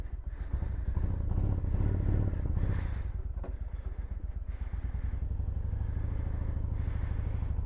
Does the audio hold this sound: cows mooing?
no